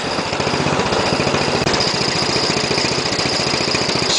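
A tractor engine, fitted as a 12-volt generator and welding rig, runs steadily while charging its battery through homemade jumper cables, giving off a loud, even, rapid chugging drone with a constant pulse throughout.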